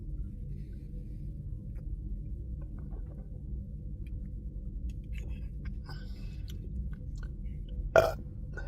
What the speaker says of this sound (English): Oh, the burps don't taste good, though.